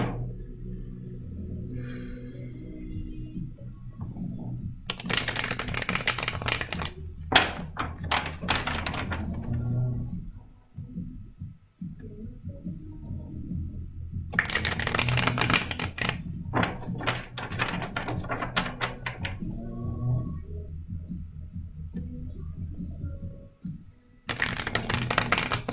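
Tarot cards are riffled and shuffled in several bursts of crisp rapid flutter, separated by quieter stretches of soft handling and a low background hum.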